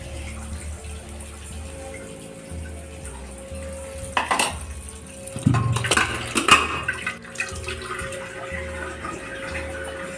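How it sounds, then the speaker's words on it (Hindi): Tap water runs steadily while a soaked pressure cooker is washed in a home kitchen, with metallic clanks and clatters of the pot rising midway over the flowing stream. "कुकर को भिगो देती हूँ"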